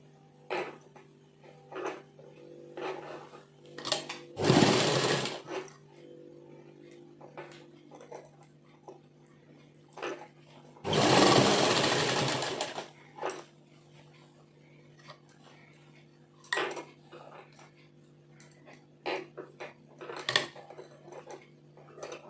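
A sewing machine stitches a pocket onto a salwar in two short, noisy bursts of running, with scattered clicks and handling taps of fabric and tools in between.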